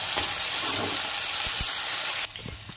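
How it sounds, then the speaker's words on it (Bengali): Spice paste for a Bengali jackfruit and prawn curry frying in a pan, a steady broad sizzle with a few light stirring knocks, dropping away abruptly near the end. "মশলাটা দিয়ে ভালো করে একটু কষিয়ে নিতে হবে"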